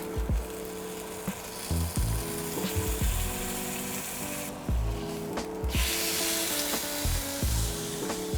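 Steady sizzling of roast beef searing in a hot pan, with crackles and occasional scraping or rubbing sounds, close by and continuous.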